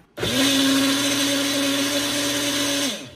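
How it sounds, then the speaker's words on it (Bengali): Electric blender whirring up a banana hair mask: a loud, close motor whine that starts abruptly, holds steady for nearly three seconds, then spins down, with no talking. "এবার আমরা সবকিছু ব্লেন্ড করে নেব"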